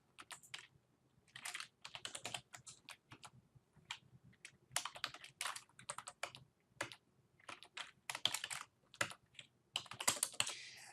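Keys clatter on a computer keyboard as information is entered into a CRM account, in fast bursts of clicky taps separated by short pauses. The sound is close and fairly quiet, with no voice over it.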